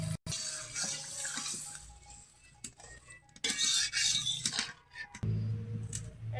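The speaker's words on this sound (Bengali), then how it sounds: "হালকা নেড়ে চেড়ে এবার জল দেব" Water poured into a pot of Bengali mixed-fish curry in a home kitchen, a steady splashing pour with faint clinks of utensils, fairly close and moderately loud.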